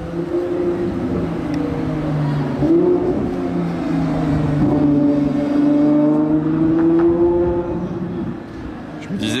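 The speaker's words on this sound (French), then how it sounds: "Je me disais bien que c'était un V12 Ferrari en approche" A Ferrari V12 sports car approaches with a loud, rising engine note that swells steadily over several seconds, heard outdoors at night near a street.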